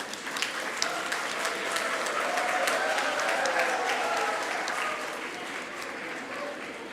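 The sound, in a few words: applause for graduating students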